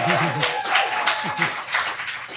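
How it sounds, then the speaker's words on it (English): A crowd applauds with dense, continuous clapping, while a voice speaks over it near the start. "let's have a first of all round of applause for Lauren Sorrento"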